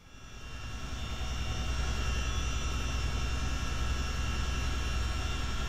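A helicopter engine spools up, a continuous broadband turbine roar and whine rising over the first second and then holding steady and loud.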